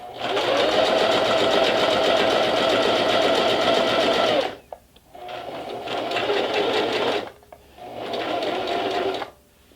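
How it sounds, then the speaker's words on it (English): Sewing machine stitching a fabric seam, running in a loud steady whir for about four seconds, then stopping briefly and starting again in two shorter bursts, close up with no talking. "So if you pinned your fabrics together, pull that pin out and continue sewing."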